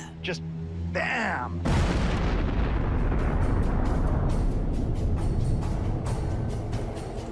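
A sudden heavy blast bursts in after a brief warbling tone, then a deep rumbling roar that slowly thins out over several seconds.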